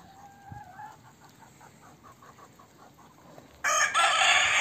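A rooster's crow rings out in stretched, rising notes, followed by a sudden loud burst of hissing noise that drowns it out.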